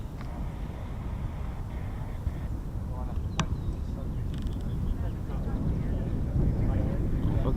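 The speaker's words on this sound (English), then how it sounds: "I just love that sound of the KC-135." US Air Force Boeing KC-135 tanker engines roar steadily at an airfield, a dense broadband rumble that holds and swells slightly louder toward the end.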